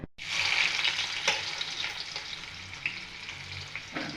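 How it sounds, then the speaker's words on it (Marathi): Soybean paste with green chili and garlic sautéing in hot oil with fried cumin, a steady close sizzle with scraping stirs over it, no voices. "चांगलं परतून घेऊ."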